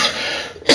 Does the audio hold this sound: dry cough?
yes